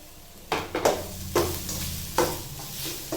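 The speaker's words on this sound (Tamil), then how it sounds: "தேங்காய் துருவின தேங்காய் போட்டு வறுத்து எடுத்துக்கலாம்" Grated coconut fries in ghee in a pan, with a soft continuous sizzle under several distinct scraping stirs of a spoon against the pan.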